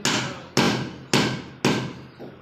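Four loud hammer strikes on a bar of soap at an even pace, each a hard crack ringing briefly before the next, close up with no talking.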